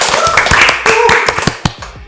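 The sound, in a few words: hands clapping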